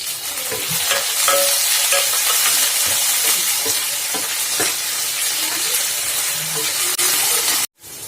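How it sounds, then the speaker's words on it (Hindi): Fried potatoes, raisins, almonds and gram-flour gatte crackle loudly in a pan as a spatula stirs and scrapes through them repeatedly, close up, with a brief drop-out near the end. "आलू भुन गए हैं, मैं अब ड्राई फ्रूट्स डाल रही हूँ इसमें, किशमिश और मैंने डाले बादाम"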